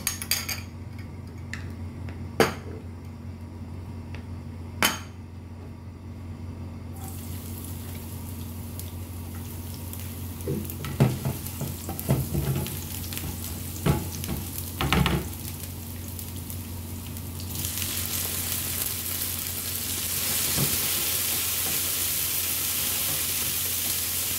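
Eggs scrambled in a pan for a Filipino meal, with metal utensil clinks and pan knocks over a low sizzle that grows fuller and steadier toward the end, no voices.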